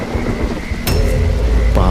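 Loud storm with strong wind and heavy rain pouring down, punctuated by sharp thunder cracks and rumbles rolling in partway through, close and full with no talking.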